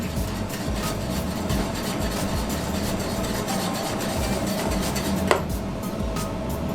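Melted chocolate whisked in a pot off the stove, heard as quick, rhythmic scraping and tapping against the metal, with one sharper knock near the end.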